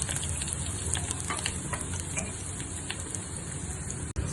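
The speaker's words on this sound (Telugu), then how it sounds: "కళాయి పెట్టుకుని ఒక 3 టేబుల్ స్పూన్ ఆయిల్ వేసుకుని ఆనియన్స్, పచ్చిమిర్చి వేయించుకోవాలి" Onions and green chillies fry in about three tablespoons of oil in a kadai, giving a steady, dense sizzle with faint ticks and stirring clicks for a few seconds, with no talking over it.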